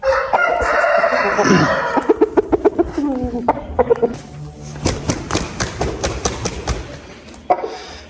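Roosters of Korean breeds in Namangan crow loudly and close by, one long cock-a-doodle-doo followed by rapid rhythmic clucks and further crowing bursts.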